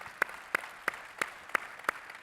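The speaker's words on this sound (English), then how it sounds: "Go ahead, you can applaud, sure." Applause from a conference audience at a real-estate company fireside chat, heard as steady, evenly spaced single claps, about three per second, fairly faint with no talk over it.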